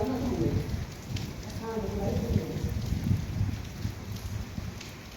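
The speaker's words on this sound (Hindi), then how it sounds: "वर्षा हो जाते" Steady rain falls outside a house, a dense, even hiss that runs the whole time, with voices murmuring faintly beneath it.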